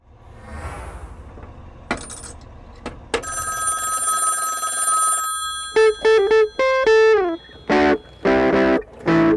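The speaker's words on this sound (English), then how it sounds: "You can't just let a phone keep ringing like that." A telephone in a phone booth rings in loud repeated bursts toward the end, preceded by clunks, clicks and a sustained electronic tone, close and alone with no talking.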